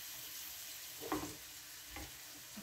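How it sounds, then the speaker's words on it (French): Onions, garlic and beans sizzle softly in a frying pan under a steady low hiss, with two brief stirring scrapes partway through. "Bon, les oignons et l'ail sont bien revenus. On va pouvoir mettre les haricots."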